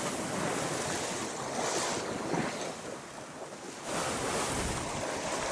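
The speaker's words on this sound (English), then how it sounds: "The wind's picked up, the waves were heeled more" Strong wind and breaking waves rush steadily around a heeling sailboat in building weather with light rain, a loud continuous roar of gusts and surf with no voices.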